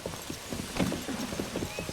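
A horse in The Legend of Zelda: Tears of the Kingdom trots along with a quiet, steady clip-clop of hooves and a faint background hum; no one speaks.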